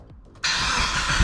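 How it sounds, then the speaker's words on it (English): A Mitsubishi Evo engine, fresh from a water pump and timing belt replacement, cranks briefly and fires up at once, settling into a loud steady run close by. "So let's go ahead and turn on the car."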